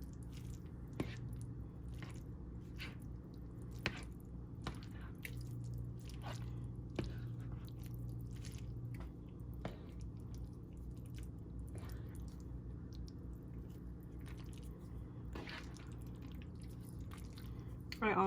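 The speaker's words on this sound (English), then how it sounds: "we are just going to give it a good stir" Pasta gets stirred into a pot of vegan chili mac, giving soft wet squishing and scraping with occasional light knocks over a steady low background hum, close and fairly quiet.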